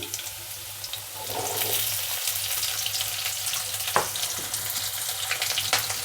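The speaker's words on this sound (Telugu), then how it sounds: "అల్లం వెల్లుల్లి కొద్దిగా వేగనిద్దామా ఒక రెండు నిమిషాలు" Ginger and garlic frying in a pan for a sprouted black-eyed pea and potato curry, giving a steady, fairly loud hissing sizzle throughout, with a few faint clicks of a utensil.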